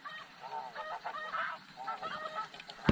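A large flock of snow geese honks continuously during a hunt, many overlapping calls blending into a noisy chorus, with one sharp close thump near the end.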